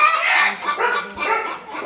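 Being caught, chickens cluck and squawk loudly and continuously, overlapping calls close by, with faint voices mixed in underneath.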